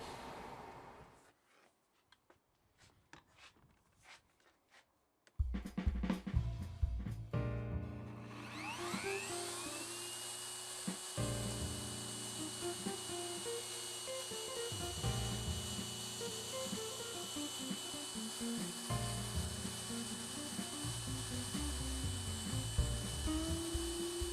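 A wood router fitted with a 9.5mm round-over bit spins up to a loud high whine and cuts along the edges of a guitar body, with steady grinding and rasping bursts as the bit bites the wood, after a few quieter handling knocks.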